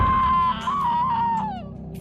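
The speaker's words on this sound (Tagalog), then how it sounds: "Halos mabingi ako noon dahil sa matinis na sigaw ng babae." A woman's shrill, high-pitched scream, sustained and wavering before trailing off, loud and close amid a tense scene in a haunted millionaire's mansion.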